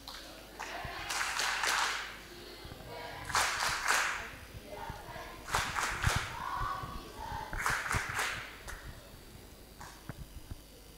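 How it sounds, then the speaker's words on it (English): A round of applause breaks out at a children's mission association talent show, coming in several uneven bursts of clapping that swell and fade, fairly faint and roomy, with brief pauses between. "Can you please give her the MCA round of applause?"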